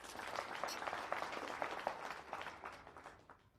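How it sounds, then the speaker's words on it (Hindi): Faint, distant audience applause at a business seminar, a steady patter of many hands that thins out and fades by the end. "एक बार ताली बजा दीजिए उनकी"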